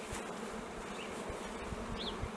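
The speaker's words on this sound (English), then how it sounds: "she has all these bees helping her" Honey bees buzz steadily around a queen bee in a beekeeping colony, making a dense, continuous drone close by with no voices.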